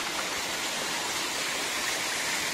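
Rahas Waterfall at Soro, Baleswar, pours with a steady, dense rush of water, an unbroken wash of noise close by with no voices.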